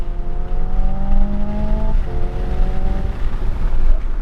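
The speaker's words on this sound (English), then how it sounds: "It's lagging, it's bogging because I hit the fake red line." A Hyundai Ioniq 5 N electric car revs to its simulated fake red line and bogs, the synthetic engine tone climbing, cutting out abruptly, then droning on loudly and steadily up close.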